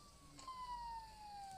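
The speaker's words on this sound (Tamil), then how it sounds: "என்ன சைரன் சுத்தம் கேட்குது?" A faint, distant police siren in a Roblox game wails in a slow, gliding tone for a couple of seconds, low in level against quiet background noise.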